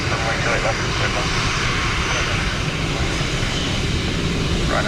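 Alaska Airlines Embraer jet landing in wet weather at Dublin Airport, a loud continuous engine roar with a broad rushing hiss heard from nearby, steady throughout.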